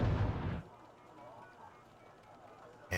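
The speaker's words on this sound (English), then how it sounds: "I'm finally starting to put some artillery down" Soviet artillery fire in the video game Wargame AirLand Battle, on the Highway to Oslo map: a loud, heavy boom opens, then fades into a low, quiet rumble, with a sharp burst returning at the very end.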